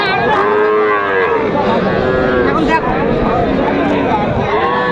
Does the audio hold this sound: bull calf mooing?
yes